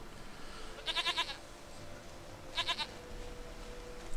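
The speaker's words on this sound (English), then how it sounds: "Goat of mine, dearest, sweetest goat." Goat in The Witcher 3 video game, bleating in two short wavering bursts a couple of seconds apart over quiet background ambience.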